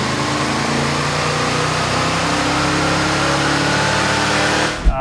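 A car engine on a chassis dyno, fitted with a HAWT BOXXX upper intake manifold and its inlet tube, holds a loud, steady full-throttle roar through a wide-open pull before cutting off sharply at the very end.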